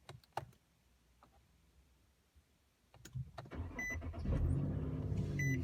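A 2012 Infiniti G37 starts up after a centre console reinstall: a few clicks and quiet pauses, then the starter cranks and the engine catches into a loud, steady idle close by.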